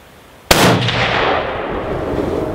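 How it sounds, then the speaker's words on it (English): A single loud, close rifle shot from a Savage Axis hunting rifle fired outdoors, a sharp crack followed by a long rolling echo that fades over two seconds. "fire my last 2 rounds, and let's see"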